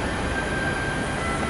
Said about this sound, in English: there's a KLIA Ekspres train passing by the station